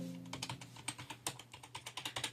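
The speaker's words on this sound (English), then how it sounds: "the keyboard sound goes" Steady typing on an IBM PS/2 membrane keyboard, a quick run of soft, evenly paced key clacks up close with no voices.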